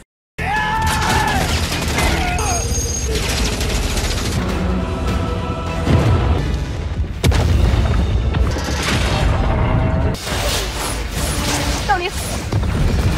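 Explosion in a film, a deep booming blast among clanking mechanical noises and crashes, loud and dense, over a narrator's voice.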